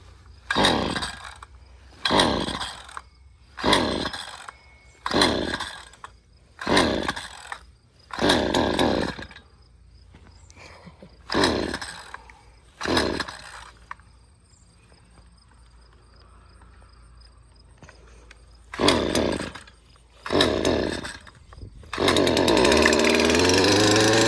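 Ryobi 40V cordless 15-inch string trimmer revving in loud repeated bursts of about a second each, with short quiet gaps, a longer lull, then a steady sustained run at the end.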